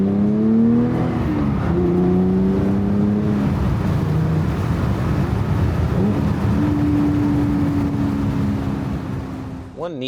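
Mercedes SLK convertible engine revving through rev-matched downshifts, each marked by a short throttle blip, the pitch stepping between gears up close with steady road and wind noise underneath.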